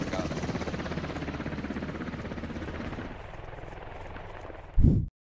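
Helicopter in a war video game: steady rotor chop and engine drone fill most of the stretch, the whine easing partway through, ending in a loud low thud just before silence.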